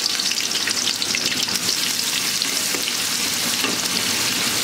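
Chopped onion hits oil in a frying pan for a meat dish, giving a loud, steady hiss and sizzle that stays dense and even throughout with no talk.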